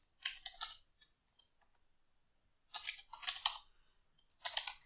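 Keys clack on a computer keyboard in short bursts of rapid typing separated by brief pauses, close and fairly quiet with no talking.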